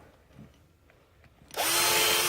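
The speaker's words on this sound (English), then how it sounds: "So you can use a bigger drill bit or the same one you had." After a moment of faint handling noises, a power drill whirs up abruptly, loud and close, spinning steadily to the end.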